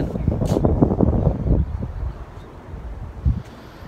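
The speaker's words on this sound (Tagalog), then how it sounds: "Medyo mahangin nga lang." Gusty wind on a rooftop in Japan rumbles and buffets against the microphone, loud at first and then easing off, with a brief muffled voice mixed in.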